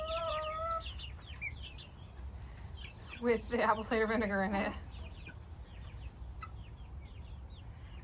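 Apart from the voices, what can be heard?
chickens clucking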